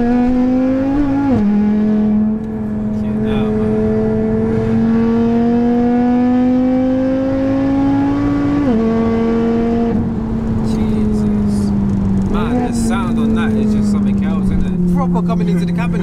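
A loud, tuned 900 bhp Audi RS3 (8P) engine revs steadily, pitch climbing and dropping through several gear changes, with a constant close mechanical drone throughout.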